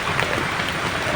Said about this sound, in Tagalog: Ulan talaga mga tol.